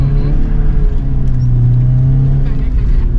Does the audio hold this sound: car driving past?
yes